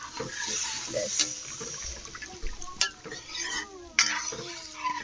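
A utensil stirs and scrapes in a pan as water goes in for a thin curry with black cumin, over a steady frying sizzle with clinks of metal, while a person talks briefly.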